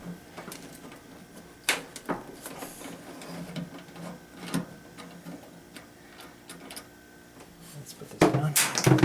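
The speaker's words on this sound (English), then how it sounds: "first let me take these screws out of here" Screws being taken out of the back panel of a clothes dryer during a 3-prong plug cord install, heard as scattered close clicks, ticks and small metallic taps with a louder rattle near the end.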